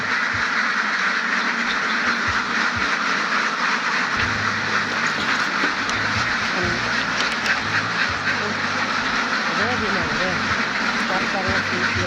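A flock of farm ducks feeding, their dense overlapping quacks forming a continuous loud chorus close by, with a low mechanical hum and a person talking intermittently underneath.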